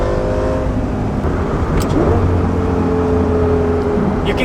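A 2006 Lamborghini Gallardo with a 6-speed manual hums loudly from inside the cabin, its engine tone rising as the throttle opens, with steady harmonic drone and no talk.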